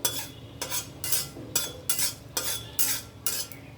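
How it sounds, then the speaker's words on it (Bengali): Dried red chilies and fennel seeds dry roasting in a kadai for a chili-sweet mango chutney, with a utensil scraping and stirring in regular strokes, about eight crisp close scrapes with a faint crackle between. "মশলাটাকে আমি হালকা করে ভেজে নিয়েছি 1-2 মিনিটের মতো।"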